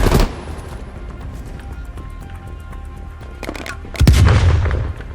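Video game battle in Call of Duty Black Ops Cold War with RPG explosions and gunfire: a sharp blast opens, sustained rumbling combat noise follows, and a heavy, loud explosion booms near the end, with shots crackling throughout.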